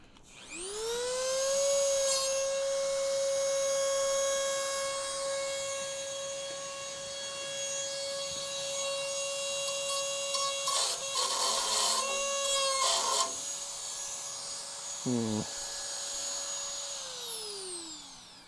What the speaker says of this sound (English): We should be able to get in there with that Dremel.